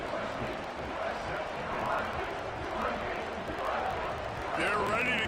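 A football stadium crowd buzzes after a touchdown, a steady broad roar of many voices with cheers rising near the end, heard beneath a live commentator's talk.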